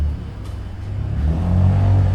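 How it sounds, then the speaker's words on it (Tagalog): Motorcycles rev up and pull away on a trip route, a loud close engine drone rising in pitch and building steadily as the bikes ride off. "So yan mga motor namin guys."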